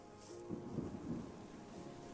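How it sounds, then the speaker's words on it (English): Rain and distant thunder in the video game Terra Nil, a steady hiss of rainfall with a soft low rumble, fairly faint, no talk. "Here's the rain."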